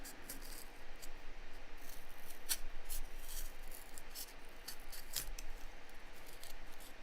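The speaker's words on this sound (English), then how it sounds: "I'm going to cut a little bit more." Material for a miniature dollhouse headstone is cut by hand with scissors, producing soft, repeated snipping and rubbing sounds, close and quiet, with a couple of sharper clicks against a faint hiss.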